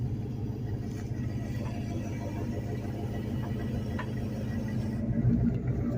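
A truck engine rumbles steadily at low revs while towing a two-door Chevette, a constant close drone with no talk.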